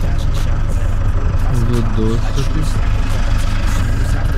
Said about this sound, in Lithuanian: Variklis visai gražiai dirba